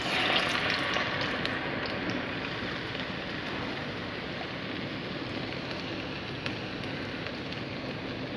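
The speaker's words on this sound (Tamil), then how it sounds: "மீடியம் ஃப்ளேமில் வச்சுட்டு வடையை பொரிக்கணும்" Steady crackling sizzle of ulundhu vada (urad dal fritters) frying in hot oil over a medium flame, a dense bubbling hiss that fades slightly as it continues, close by.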